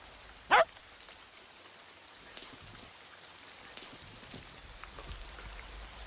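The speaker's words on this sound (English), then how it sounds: "You like the rain." Rain falls outdoors on a wet day as a soft, faint patter with scattered drops and one sharp brief sound near the start, and no talking over it.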